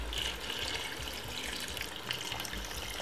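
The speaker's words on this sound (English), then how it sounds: "I might add a little bit of water to it." Water pours steadily into a pot of Jamaican chicken curry, a soft continuous trickle heard alone and fairly quiet.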